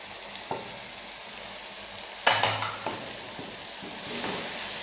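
Chicken frying with salt, chili and turmeric masala as it is stirred, a low steady sizzle broken by a few sharper scraping bursts of the spoon against the pan, close by and without speech.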